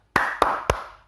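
Three sharp hand claps, evenly spaced, ringing out close and clear with a short echo trailing after each.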